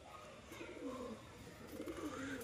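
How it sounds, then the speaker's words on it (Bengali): A male pigeon coos softly in a faint, low, rolling call that repeats over quiet background noise. "নর কবুতর।"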